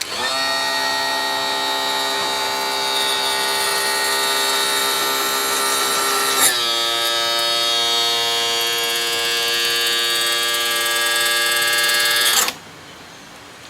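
A new tilt and trim pump motor on a 1992 Johnson 60 hp outboard runs with a steady, loud electric whine for about twelve seconds, shifting pitch once midway as it changes direction, then cuts off abruptly.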